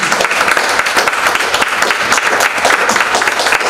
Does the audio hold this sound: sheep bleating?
no